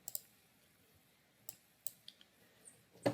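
Mouse clicks in QGIS mapping software during buffer and dissolve work: a few scattered, crisp, close clicks, including a quick double click at the start and a louder click at the end, over quiet room tone.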